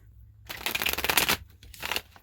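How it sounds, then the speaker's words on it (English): A deck of tarot cards being shuffled up close, a crisp riffling rush lasting about a second, then a shorter second burst of flicking cards. "One more shuffle."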